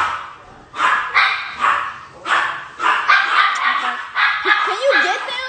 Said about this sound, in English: My dogs think that there's someone at the door right now.